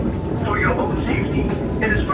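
Argo Merbabu train pulling into Cirebon Station in Indonesia, a steady low rumble of rolling wagons under a station announcement voice, with faint higher squeals as it slows.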